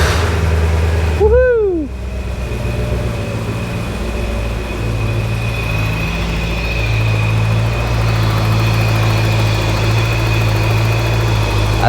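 A Porsche 928 S4 V8 cranks and fires with a sharp rising starter whine, then settles into a steady, close, rumbling idle that runs on alone; one brief cheer comes at start-up.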